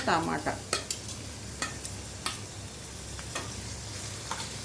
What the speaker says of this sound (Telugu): ఆనియన్స్ వేగుతున్నాయి కదండి